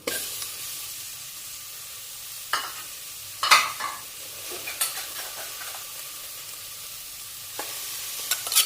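Pork frying in a pan for a Thai gaeng om curry, a continuous soft hiss with a few sharper crackles and scrapes now and then, close and fairly quiet, with no talking.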